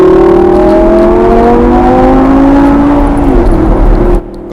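A Lamborghini Gallardo V10 Performante in sport mode pulls through the gears. The loud, close engine note rises in a smooth whine, then drops with each upshift, and the sound falls off sharply at the end. No one speaks.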